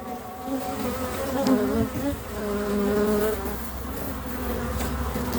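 Honeybees swarm and buzz at an opened hive during a spring inspection, making a dense, steady, close drone with a slowly wavering pitch that lasts throughout, with no voices.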